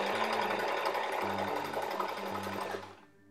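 A sewing machine embroidering a bib runs steadily in a loud, continuous mechanical whir with rhythmic low stitching pulses, slowing and stopping at the very end.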